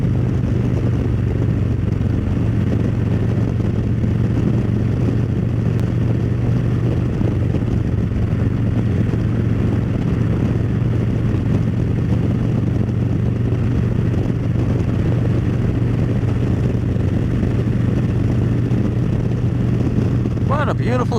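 A motorcycle cruises at highway speed in sixth gear, with a loud, constant engine drone and wind rush that hold steady throughout, with no pauses or gear changes.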